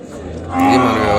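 At a weekly cattle market, a bull calf lets out a single loud, drawn-out moo that swells midway, close by and over faint background murmur.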